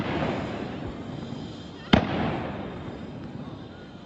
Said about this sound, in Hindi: आप गोलियों की गूंज सुनिए।